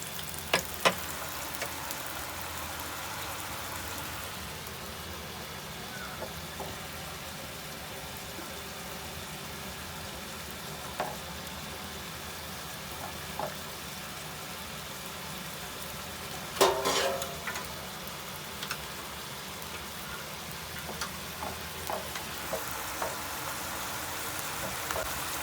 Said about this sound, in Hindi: इतनी देर में हम मक्खन लगा के और बर्गर को हल्का हल्का सा सेक लेते हैं घी में